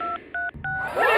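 Cell phone keypad dialing tones in a cartoon: three short electronic beeps in quick succession, followed by a brief burst of higher chirping effects.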